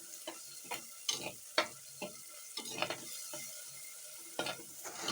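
Tomato and onion fry for a home-style kavalai fish curry while a spoon scrapes and clacks against the pan in irregular stirring strokes over a faint sizzle.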